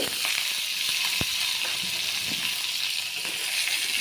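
Very hot oil in a wok keeps up a loud, continuous sizzle and crackle, with a sharp clink from a utensil and a few stirring scrapes. Vegetables are being fried with egg.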